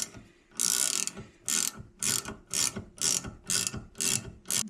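A ratchet wrench tightens down on a valve spring compressor tool atop an LS engine, clicking in about eight quick bursts of loud metallic ratcheting separated by short pauses, close up and with no talk.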